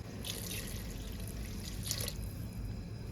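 Water poured into a pot of crab curry as it cooks, a steady splashing pour with a couple of brighter gushes, close and continuous with no voices.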